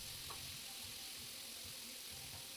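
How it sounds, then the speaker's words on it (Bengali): Capsicum frying in a pan for a leafy greens stir-fry, a steady soft sizzle and hiss throughout with faint low stirring bumps, heard close and alone. "ক্যাপসিকামটা আমি কিছুক্ষণ ভেজে নিচ্ছি।"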